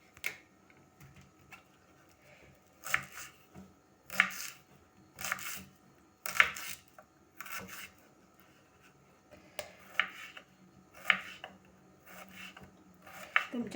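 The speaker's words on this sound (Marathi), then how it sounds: "हे पूर्णपणे कापून घ्यायचं, भाजीसारखंच बारीक कापून घ्यायचं." A knife finely chopping tender banana flower on a board, rhythmic clusters of crisp taps and cuts repeating in groups with short pauses between, close and fairly quiet.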